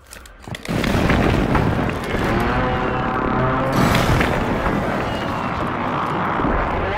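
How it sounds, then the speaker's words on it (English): Precision airstrike explosions on Rebirth Island in Call of Duty Warzone: a loud, sustained roar of booms and rumbling blasts that starts abruptly and continues for several seconds, with no talking. "Enemy precision airstrike."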